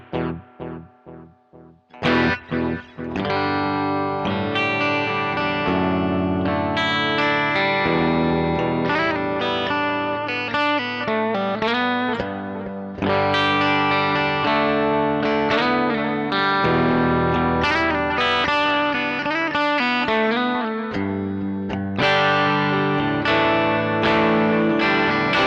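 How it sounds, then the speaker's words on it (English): Electric guitar runs through a Sonicake Levitate delay pedal with the wet signal blended in, playing a continuous picked melodic line with trailing repeats and a chorused, washy ambience, loud and steady after a brief opening. "So now I can blend in the wet signal as I want."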